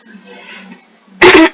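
A short, loud, close cough bursts out once after a quiet, faintly humming stretch.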